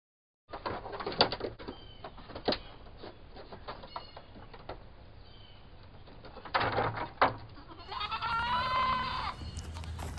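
Goats bleat on a farm, several short calls scattered through the clip at moderate distance, with a longer wavering bleat near the end over soft outdoor background noise.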